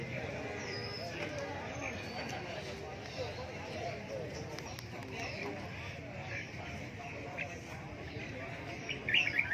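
Red-whiskered bulbuls chirp and call in short bursts at a Vietnamese bird market, faint beneath steady conversation and crowd bustle.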